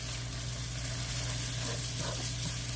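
Beef carne picada sizzles in a pan, a steady, dense, fairly loud frying hiss that holds evenly throughout with a low hum underneath.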